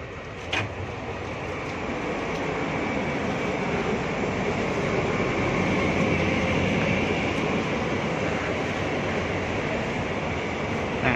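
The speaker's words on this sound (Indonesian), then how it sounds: "numpak kereta adem enak" A continuous rumbling ride inside a moving KRL commuter train between Solo and Yogyakarta, with steady rolling noise and occasional faint clicks from the track.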